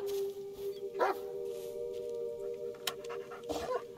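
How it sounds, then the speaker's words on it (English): A dog in the video game Blair Witch gives a few short barks and yips against a steady electronic hum, with soft panting between them. "Why are you barking?"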